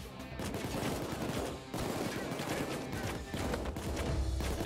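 Enemy gunfire in the shooter PayDay 2 during a bank heist, dense bursts of rapid shots crackling almost continuously across the moment, loud and close with brief gaps, with some voices mixed in.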